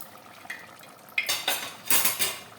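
Onions and green chilies fry in ghee while a metal spoon scrapes and clatters against the pan, with bursts of hissing sizzle between the stirs, close and fairly loud.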